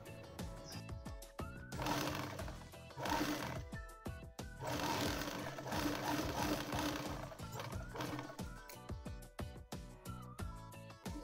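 A sewing machine stitches a belt onto a reversible shopping bag in bursts of rapid, close mechanical clatter, separated by short pauses and sharp clicks.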